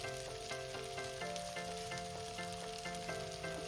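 Fried peas being stirred into sizzling masala in a pan, a faint, steady frying hiss with stirring scrapes, while tonal music plays in the background.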